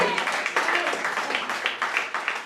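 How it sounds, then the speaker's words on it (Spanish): Congregation clapping at a church service, dense steady applause from many hands, fairly close, with a faint voice underneath. "Denle un aplauso al Señor Jesús"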